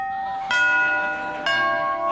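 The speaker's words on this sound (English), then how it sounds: "that could well be the last time that the front doorbell of this old house rings this series" Front doorbell of an old house rings twice, two clear chiming strikes about a second apart, each leaving a sustained ringing tone that slowly fades.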